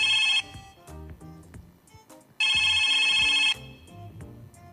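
A telephone rings for a phone-in question on a Filipino talk show, two loud bursts of electronic trilling separated by a pause, with background music playing underneath and no speech.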